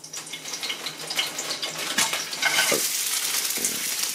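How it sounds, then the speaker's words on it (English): Pre-chopped onions sizzle in a hot wok for Filipino-style chicken adobo, a close steady hiss that swells louder midway as they are stirred, with no voices. "Take your pre-chopped onions and place them in the wok."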